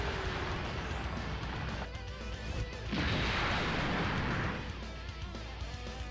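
Super attack effect from the mobile game Dragon Ball Z Dokkan Battle, a dense barrage of explosive crashes and booming blasts that swells loudest midway through and then continues as a steady roar, with no voices.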